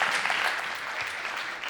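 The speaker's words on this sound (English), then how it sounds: "we can clap for Julian" A short stretch of audience applause for a presenter at an investors, VCs and founders gathering, a steady, dense clatter of many hands that is already underway and continues throughout.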